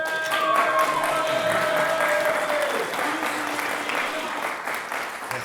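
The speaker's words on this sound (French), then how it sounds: "j'ai fait un grand applaudissement pour Yanis" A live audience gives a dense round of applause, steady and fairly loud clapping that continues throughout, with a gliding tonal voice or whistle briefly audible over it early on.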